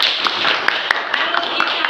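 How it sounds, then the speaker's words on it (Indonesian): Classmates clap for group 3 in a school classroom, a thin scattering of individual claps over a background of voices and room noise. "Kami berikan dulu tepuk tangan."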